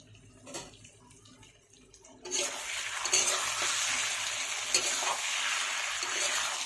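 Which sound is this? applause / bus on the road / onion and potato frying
onion and potato frying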